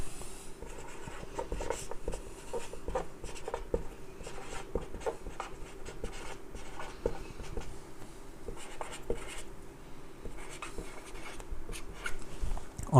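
Pen writing by hand on paper during a physics lesson, a continuous close scratching with rapid short strokes and taps, with no talking over it.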